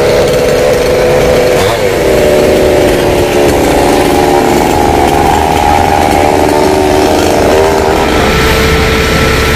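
A chainsaw roars steadily and loudly up close, its engine pitch shifting slightly as it bites through the trunks of foxtail palm trees.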